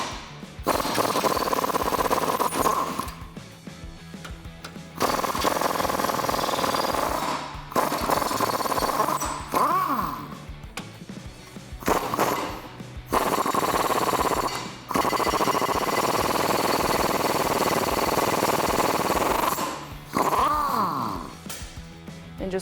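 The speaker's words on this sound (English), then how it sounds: "I'm going to use a 19mm socket to go ahead and remove those." Impact wrench or ratchet on a 19mm socket spinning U-bolt nuts off a 2005-2020 Toyota Tacoma rear axle during a lift block install, several loud sustained whirring bursts separated by short pauses.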